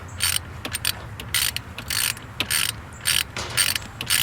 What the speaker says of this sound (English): So next thing I'm going to do is I'm putting this bolt back in here.